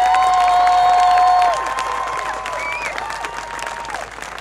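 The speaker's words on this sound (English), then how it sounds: "One more round of applause." A crowd at a climate march rally in Adelaide claps and cheers loudly, the applause fading gradually over a few seconds with a few whistles and shouts mixed in.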